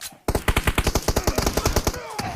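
Rapid automatic gunfire from the video game Free Fire, a loud sustained burst of evenly spaced shots lasting about two seconds after a brief quiet start, close and dominant.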